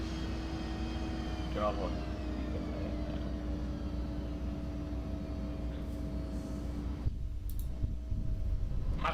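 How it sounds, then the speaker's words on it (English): Loud, steady engine drone of an Embraer E145 regional jet in X-Plane 11, heard from a seat right beside the engine, a continuous hum with a faint tonal whine, while a voice briefly speaks over it. "this plane is loud, and I'm seated right next to the engine"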